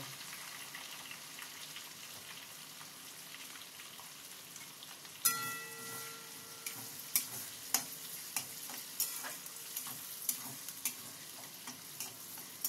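Chopped garlic, ginger and onion go into hot oil in a pan and fry lightly. A soft sizzle starts partway through, with scattered crisp crackles and stirring clatters, and no one speaks.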